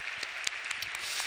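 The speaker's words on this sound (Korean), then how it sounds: "우리 다시 한번 감사와 영광의 박수 함께 돌리겠습니다" A church congregation from a young adults' ministry claps together in steady, moderately quiet applause that fills the whole moment without a break.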